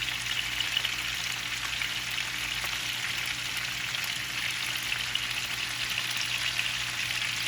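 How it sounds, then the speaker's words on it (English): Sliced leeks going into a hot pan on top of potatoes, giving a constant dense sizzle that holds even and loud throughout, with no voices. "So now we're going to add our leeks. I like to put them over the potatoes."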